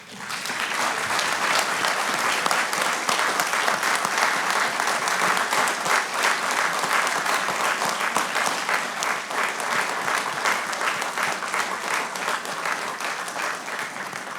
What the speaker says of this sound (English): Let's take another moment to give our 26 colleagues a round of applause